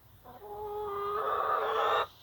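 Backyard chickens cluck in a sustained, close, moderately loud run of overlapping calls that rises in intensity for about two seconds and then stops abruptly.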